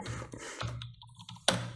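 A few keystrokes and clicks on a computer keyboard while Python code is entered into an IDE on Windows, brief irregular taps over a low steady hum, with one sharper louder click near the end.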